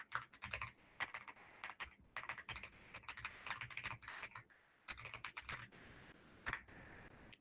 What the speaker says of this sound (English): So let's type a question in right now so everybody sees where that'll pop up.